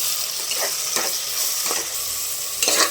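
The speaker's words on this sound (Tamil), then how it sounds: "மூணு பெரிய வெங்காயம் மூணு தக்காளி சேர்த்து நல்லா வதக்கிக்கலாம்" Onions and tomatoes sauté in a hot pan for prawn biryani, a steady close sizzle with a few stirring scrapes spaced through it and a louder scrape near the end.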